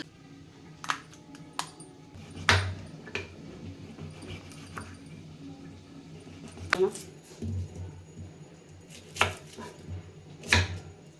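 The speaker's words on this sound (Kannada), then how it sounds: "ಈ ಕಡೆ ಕೊಬ್ಬರಿ ರೆಡಿ ಮಾಡ್ಕೊಂಬಿಡೋಣ. ಸಣ್ಣಗೆ ಹೆಚ್ಕೊಂಡು" Dried coconut (copra) is chopped finely with a knife on a board, producing sharp, irregular knocks spaced a second or two apart over a quiet background.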